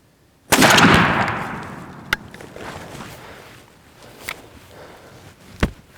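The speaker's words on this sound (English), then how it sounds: "we're going to be shooting the Longbeard, the Winchester Double X for the first 3 rounds" A shotgun fires a Winchester Double X Longbeard turkey shell in one loud, sharp outdoor blast with a long echoing tail, followed by a few faint clicks and thumps.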